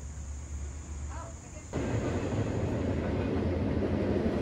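A steady, loud rumble of a train rolling past nearby, a continuous roar that swells slightly and holds throughout.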